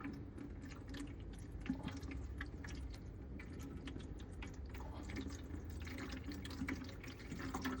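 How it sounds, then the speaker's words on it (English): Steady splashing and trickling of water draining out of an EcoPure EPW2P water filter housing into a container, continuous and fairly close, with occasional soft clicks and drips. "I'm just gonna drain the water here"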